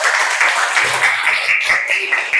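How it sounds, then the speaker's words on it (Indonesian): Students in a junior high school classroom applauding, a dense burst of clapping from many hands, close and fairly loud, sustained throughout with a few faint voices mixed in. "Tepuk tangan untuk kita semuanya dulu."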